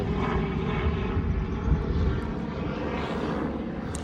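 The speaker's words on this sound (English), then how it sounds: "Helicopter. Never seen that type of helicopter before." A helicopter passes overhead, a loud steady engine roar with a broad rumbling wash that holds throughout without fading and carries no speech.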